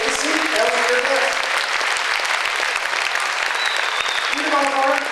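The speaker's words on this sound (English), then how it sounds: "Give them a round of applause and take a seat." Audience applause after a mentalist's stage performance: dense, sustained clapping that fills the room from start to finish, with a few voices murmuring underneath.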